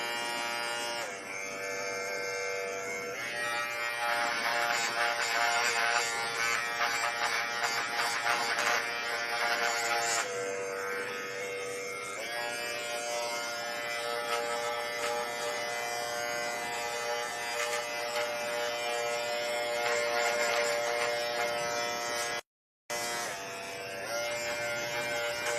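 A scalp treatment machine gives off a steady, close electric buzz that runs almost unbroken through the clip, with one very brief dropout near the end.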